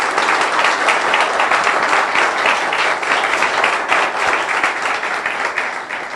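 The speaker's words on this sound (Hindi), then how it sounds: "अगर आप बरकत पा रहे हैं तो तालियां बजा दें यीशु के लिए।" A church congregation claps continuously during a sermon, a dense, loud, sustained round of applause that holds steady throughout and fades slightly at the end.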